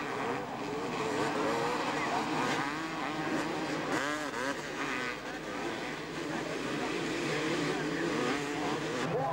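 A pack of 250cc motocross bikes races through mud at a 1988 British championship round, engines snarling and revving together in a dense, continuous roar, moderately distant.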